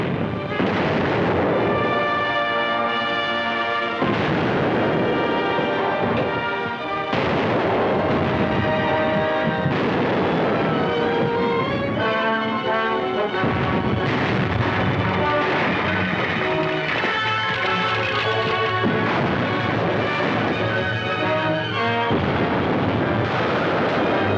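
Ship cannons fire in a 1936 film naval battle as a run of heavy booms over a loud orchestral score that fills the whole stretch.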